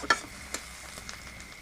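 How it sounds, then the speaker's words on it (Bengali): A masala of ginger paste, garlic and turmeric fries in a pan, a brief, quiet hiss marked by a couple of sharp stirring clicks near the start. "ভালো করে কষে নেব"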